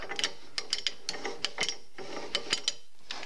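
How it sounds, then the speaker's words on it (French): Ratchet of a mechanical jack being turned by hand, giving bursts of sharp clicking pawl ticks in uneven groups of two to four, close and fairly quiet, with no talking. "tu déclenches ton cliquet, bien sûr comme tout cliquet, ça va dans les deux sens, et tu fais tourner là"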